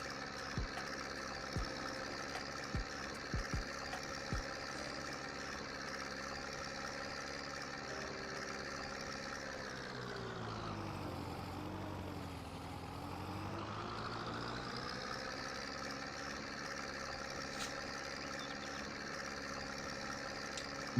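Small tractor engine idling in Farming Simulator 22, a steady close mechanical hum that dips and swells briefly midway as the revs change, with a few faint clicks early on.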